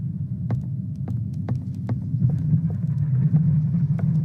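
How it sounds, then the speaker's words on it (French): Low, steady thunder-like rumble heard behind a door in the video game Doors, with faint rhythmic knocks or thuds repeating through it and no talk. "J'entends du tonnerre."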